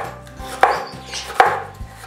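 A knife chops a jalapeño pepper on a cutting board, landing two crisp, close, evenly spaced strikes with soft board noise between them.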